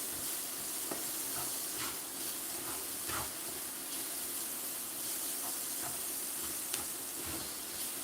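Vegetables and potatoes sizzle and steam in a hot cast iron pan, a steady close frying hiss with faint stirring clicks and no talk.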